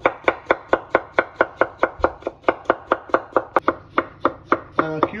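A knife cuts a cucumber into julienne strips on a board: about twenty crisp, evenly spaced chops in a steady, fast rhythm, close and clear with no talking.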